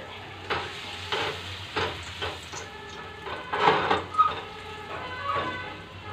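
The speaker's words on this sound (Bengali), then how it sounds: "এক সাইড ভেজে নেওয়ার পর আমি অন্য সাইডও এইভাবে পাল্টে নেব।" Lentil fritters (dal bara) fry in a pan with a continuous close sizzle, broken by several sharper crackles and clinks as pieces are moved and turned.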